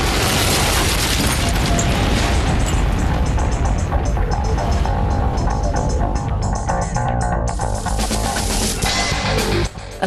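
A massive cannon blast, a deep, roaring explosion that swells and rumbles on with a long, churning tail of noise, loud and close throughout with a few sharper bursts mixed in.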